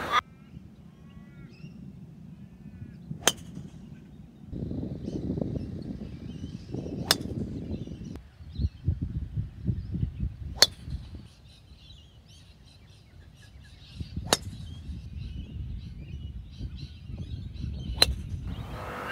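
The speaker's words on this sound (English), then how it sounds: "now I'm going to run a video quickly now of me hitting all five drivers again" Five sharp, crisp strikes of golf drivers from Callaway, Ping, TaylorMade and Cobra hitting balls, spaced a few seconds apart outdoors over faint background noise and rustle.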